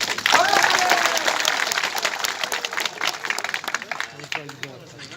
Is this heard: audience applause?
yes